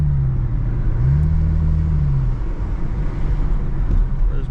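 A Chevrolet Camaro V6 with a muffler delete rumbles low and loud from inside the car, its droning engine note rising briefly as it revs, then settling back.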